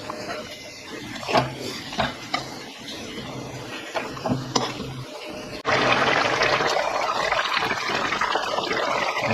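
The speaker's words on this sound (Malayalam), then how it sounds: "തിളച്ച് തുടങ്ങി" Boat-style sardine curry in a pot comes to the boil at home, after a few scattered clinks and handling noises, breaking into a loud, steady bubbling rush that carries on to the end; a little talk is heard early on.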